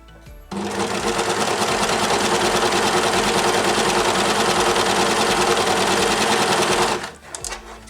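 An overlock sewing machine stitches over a red chain stitch in one continuous loud, fast whirring run of about six seconds, then winds down to a stop.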